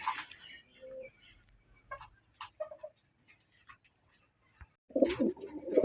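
Pigeons coo at a pigeon farm in short, scattered bursts with gaps of quiet between them. A louder, closer run of throaty cooing builds at the end, with faint shuffling in the background.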